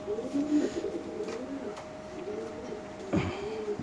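A female racing pigeon from a BRP club coos softly in a few low, throaty phrases, close by, over quiet background noise.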